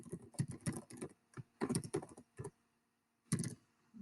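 Bursts of keystrokes on a computer keyboard as a project name is entered, clattering in quick clusters separated by short pauses, fairly close and alone without talk.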